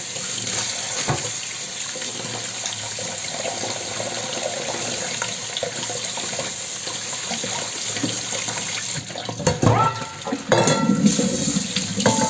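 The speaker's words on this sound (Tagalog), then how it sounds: "Ngayon naman ay ating hugasan." Tap water runs steadily into a kitchen sink while seafood is rinsed under it, a close, constant rushing stream with splashing and handling noises growing busier toward the end, no talking.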